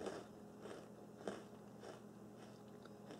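A crunchy pie-crust snack like puff pastry is bitten into, giving a few soft, crisp crunches and chewing crackles, with one sharper bite in the middle, all close and quiet.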